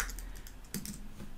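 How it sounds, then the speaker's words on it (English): Quick bursts of keystrokes clatter on a computer keyboard as a LaTeX command is typed, light irregular clicks at close range with no voices. "I can type backslash calculator."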